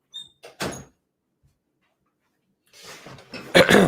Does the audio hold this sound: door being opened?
yes